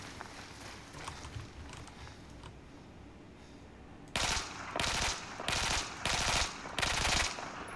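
Assault rifle in Battlefield 4 fitted with a stubby grip and no barrel attachment fires several loud, close automatic bursts in the second half, each burst separated by short pauses, after a stretch of quieter game ambience.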